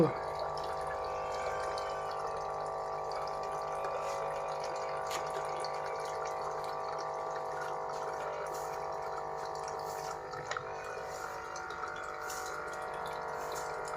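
Water runs steadily into bottles at a filling station, a continuous even flow with faint clinks near the end and no talk.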